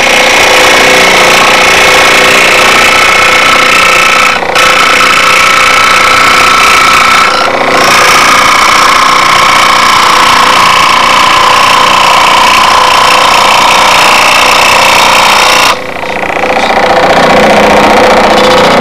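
A power saw cuts slowly through 1/8 inch plywood, a loud, continuous buzzing drone close by, steady throughout with a few brief dips where the blade eases off.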